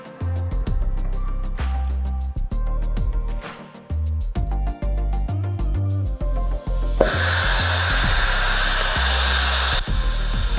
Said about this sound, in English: the setup is very noisy, which is an indication for turbulences